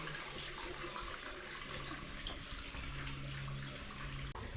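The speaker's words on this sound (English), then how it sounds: "This is clean groundwater coming up under pressure and then flowing downhill." Clean spring water welling up under pressure and flowing downhill at the Rock Spring House, a stone springhouse in Governor Dodge State Park, heard as a steady close trickling rush that continues throughout.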